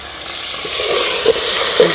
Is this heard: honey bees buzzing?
no